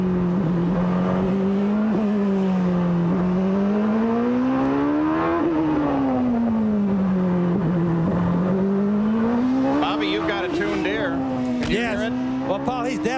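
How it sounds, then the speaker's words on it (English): Nigel Mansell's IndyCar at the 1993 CART Long Beach race, its engine running rough and down a cylinder, drones steadily as it rises and falls through gear changes on the approach to the Toyota turn 1, with commentary underneath. "Let's listen to Nigel's engine now as he approaches the Toyota turn 1."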